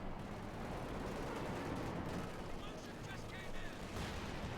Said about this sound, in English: 50 caliber is firing pointlessly at the Panzers